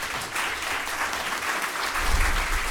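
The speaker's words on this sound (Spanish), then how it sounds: "Muy bien, démosle un aplauso," An audience at a tribute event for the work of Luis Baldoceda claps steadily, a dense, sustained roomful of applause that swells slightly toward the end.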